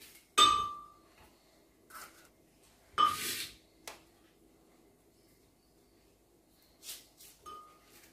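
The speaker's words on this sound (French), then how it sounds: "on va écraser les condiments maintenant" Tomato, chili and onion crushed in a mortar for a vegetable kale stew: a few sharp, hard pounding knocks with clinking edges, separated by quiet pauses, close and isolated.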